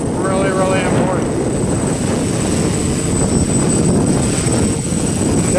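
A quadcopter drone with yellow and white arms flies in a 15-20 mph wind, its whirring motor hum buried in heavy, blustery wind rumble that stays loud and steady throughout.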